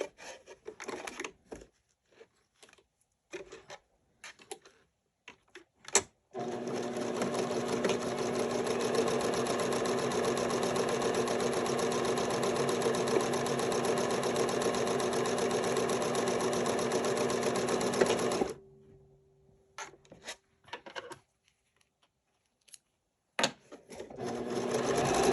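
Sewing machine running a long continuous row of stitching on a six-panel welding cap, steady and close for about twelve seconds, framed by short start-stop bursts before and after.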